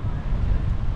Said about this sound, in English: Anywhere by the coast is windy.